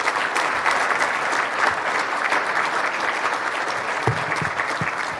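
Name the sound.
applause for the Minister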